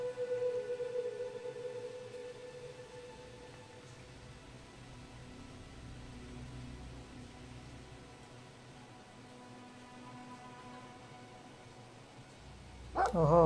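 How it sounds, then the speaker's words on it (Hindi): A dog running in the video game Brothers: A Tale of Two Sons yelps faintly at first, then lets out a louder burst of barking at the very end over quiet, hissy game ambience. "ओहो, कुत्ता भागता हुआ आया,"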